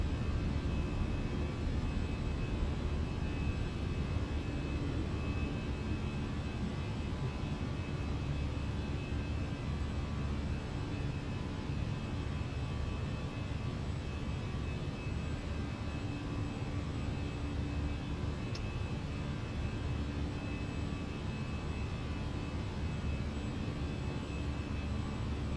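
An airliner in Microsoft Flight Simulator 2024 taking off, a steady broad jet engine roar holding at a moderate level throughout, with no voices.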